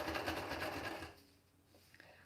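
Sewing machine stitches through a mixed media card in a quick, fast-pulsing run for about a second, then cuts off, leaving faint room noise and a small tap.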